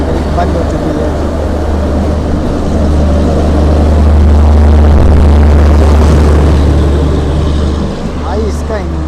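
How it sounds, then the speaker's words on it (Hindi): A heavy diesel locomotive engine roars loudly with a deep, steady rumble that swells slightly, with a voice talking over it. "भाई इसका इंजन बहुत आवाज़ करता है।"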